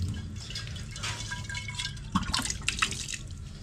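Water is poured onto marinated barbecue pork belly in a kitchen, a close, soft splashing trickle with scattered drips under a low background hum.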